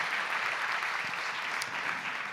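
Warm, steady audience applause at a teen Sunday church service, a dense patter of clapping that carries at an even level throughout, with no talk over it.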